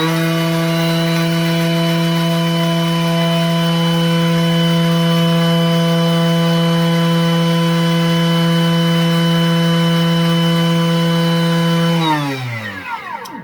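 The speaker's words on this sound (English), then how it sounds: "It's just making our sugar finer so that it will incorporate quicker into our beautiful custard." A Thermomix TM6 mills sugar at speed 10, giving a loud, steady high-pitched motor whine that holds for about twelve seconds, then drops away quickly as the blade spins down.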